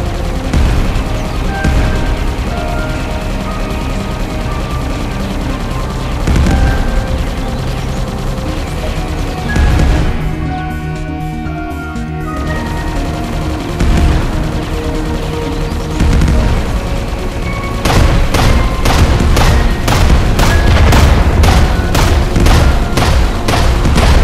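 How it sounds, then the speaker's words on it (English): Laser gun blasts from the PS4 game Dogos ring out in repeated booming bursts over a dense game soundtrack, with a rapid volley of sharp shots clustering toward the end. "Laser gun."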